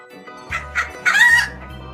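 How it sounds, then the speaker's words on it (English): A hen clucking in a few short bursts that build into a longer, louder squawk, heard close over a low steady hum. "Hen."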